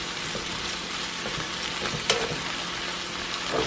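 Teriyaki-glazed salmon sizzling in a hot pan while it is basted, a steady close frying hiss with light scraping and spoon taps and one sharper clink midway, with no talk.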